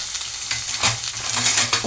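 Onion, green chillies and curry leaves sizzle loudly in a frying pan as they are stirred, a steady hiss with brief scraping swells from the spoon.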